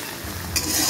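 Bay leaf and onions sizzle in hot oil in a wok, a steady frying hiss that swells louder in the second half, close and alone with no talk.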